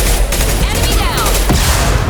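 Rifle fire from Mass Effect 2 Legendary Edition booms in a loud, dense barrage with overlapping shots and a roaring combat background, with voices mixed in.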